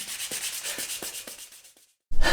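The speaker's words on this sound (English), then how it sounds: "And you thought we were done sanding on this car." Hand sanding on the body of an Evo 9 car: rhythmic back-and-forth rubbing strokes, close and moderately loud, slowing and fading to silence before a sudden louder noise at the end.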